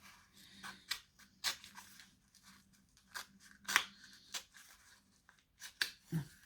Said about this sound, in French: Je vais essayer au ciseau.